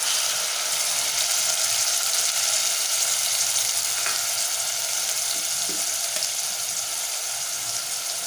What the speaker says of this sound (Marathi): आता आपण जे मीडियम आकाराचे टोमॅटो बारीक चिरून घेतलेले आहे ती घालूया.